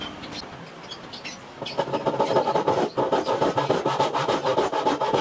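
A Hasston rip-cut hand saw with sharp rip-style teeth cuts through wood; after a brief quieter start, steady rhythmic rasping push-pull strokes come up close and loud, repeating evenly for several seconds.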